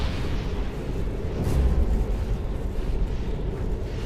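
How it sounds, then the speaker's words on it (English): A deep, sustained rumbling roar of an asteroid air blast explosion in the atmosphere, dense and steady throughout with a slight swell near the middle, loud with no voices. "It doesn't even have to make it to the ground before you have a huge explosion."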